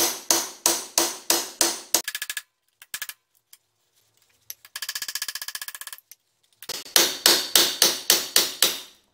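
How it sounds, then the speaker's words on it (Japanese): A hammer strikes a bull point or punch driven into a drilled weld nut, in loud, rapid bursts of evenly spaced blows, separated by brief pauses and a stretch of faster rattling impacts. "そこにブルポイントやポンチを入れてハンマーを入れると"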